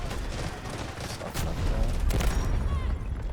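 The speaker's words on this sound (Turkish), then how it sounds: "Tamam o patladı çok iyi." Explosions and gunfire in the video game Delta Force: a steady crackling battle din with a couple of sharper blasts bursting through near the middle, heard at moderate level with no talking.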